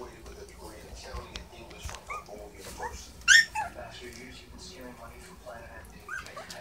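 Newborn puppies whimper and yip in soft, scattered bursts close by, with one sharper high cry midway, while people talk quietly over them in a home setting.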